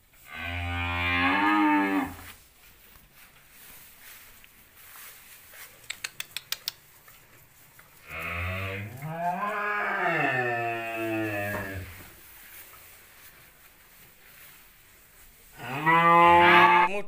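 Cattle at a livestock sale, including a hornless Limousin bull, moo in three long, loud bellowing calls near the start, middle and end, with quiet pen noise and a few sharp clicks in between.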